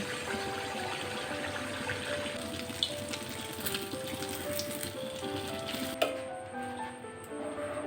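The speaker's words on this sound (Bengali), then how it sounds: "বাকি মালপাগুলো ভেজে দিচ্ছি" Kheer malpua pancakes frying in hot oil give a steady, close crackling sizzle with fine popping that runs throughout, with a couple of slightly sharper pops.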